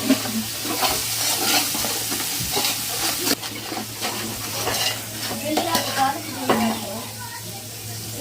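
Masala frying in a pan with coconut powder and ginger paste being stirred in, with a steady sizzle under repeated scraping and clinking of a spoon against the pot, close and continuous.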